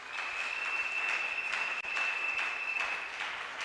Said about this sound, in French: Est-ce qu'on peut applaudir très fort pour Dieu?